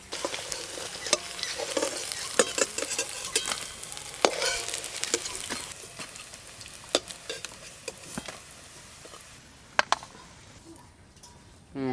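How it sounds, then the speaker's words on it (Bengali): Malabar spinach leaf fritters fry in hot oil, giving a quiet, continuous sizzle dotted with sharp crackles and pops, with no talking. "দেখতে দেখতে এই বড়াগুলো সব ভাজা হয়ে গেল"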